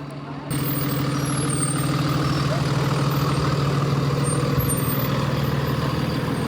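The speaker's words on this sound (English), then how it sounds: "we headed over to the depot to catch our bus for the Tundra Wilderness Tour" A tour bus at the depot idles with a steady low diesel drone and a faint rhythmic throb, close and continuous, with voices faintly underneath.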